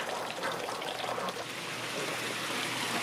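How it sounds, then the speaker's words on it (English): Water trickles and drips steadily from a roof into a rain catchment pond, a soft continuous patter with no talking over it. "So you can see that it's dripping there."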